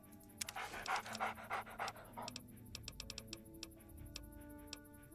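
Dogmeat, the dog companion in the Fallout video game, panting in quick rhythmic breaths that give way to soft ticking clicks, faint and close.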